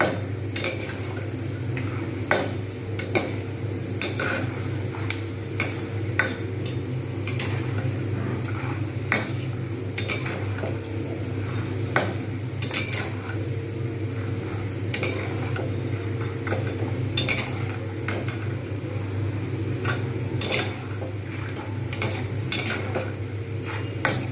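Potatoes frying in oil for crisp Bengali aloo bhaja, with a steady low sizzle and frequent close scrapes and clinks of a spatula stirring in the pan throughout.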